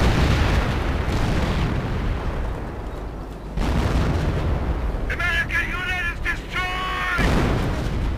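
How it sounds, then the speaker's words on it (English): Hummel artillery pieces and other guns fire in a Europe in Ruins battle, with dense booming blasts layered over constant combat noise. Someone talks over part of it. "I can hear the Hummel shooting again"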